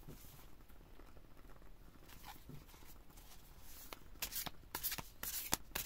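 Tarot cards being shuffled by hand, quiet riffling close by that grows into crisp, rapid flicks toward the end.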